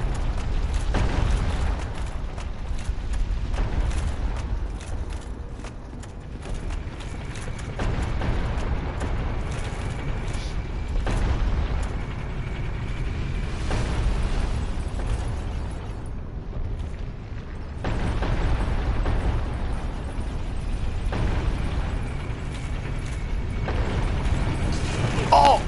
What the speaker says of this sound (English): To ride the elevator up again.